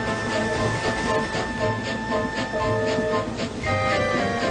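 Steam engine Rheneas climbing a steep grade in a Trainz game, rumbling and chuffing steadily with a sustained tonal whine over the loud rolling noise.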